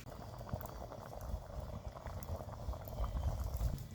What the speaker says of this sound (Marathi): आता ह्याला खळखळून चांगली उकळी येऊन द्यायची